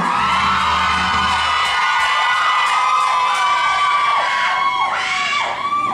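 A crowd of young voices screams and cheers loudly, high shrieks rising and falling in overlapping waves throughout.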